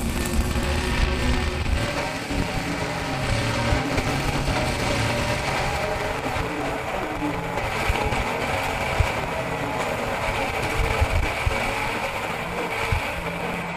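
A Lamborghini Huracan fitted with a 1500 hp Texas Speed LS V8, started for the first time and warming up, runs in a steady, loud, dense roar at close range for the whole stretch, with no talking over it.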